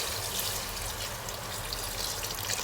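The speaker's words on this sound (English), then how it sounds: "So now we are going to put a bowl of water." Water pours steadily and continuously into a bowl for cooking chicken tinola, a soft, even rush of liquid with no talking.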